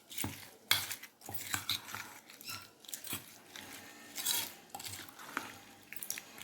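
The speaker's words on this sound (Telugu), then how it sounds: "తాలింపు వేసుకున్నాక మనం బాగా ఇది ఇట్లా గరిటతో తిప్పుకోవాలి" A ladle scrapes and clinks against a pot while raw mango chutney is stirred after its tempering of spices, giving close, irregular knocks and scrapes with no one talking.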